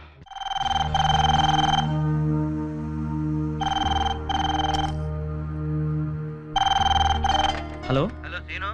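A telephone rings in a Telugu film scene: three loud, bright bursts of ringing separated by short gaps, with a voice briefly heard at the end.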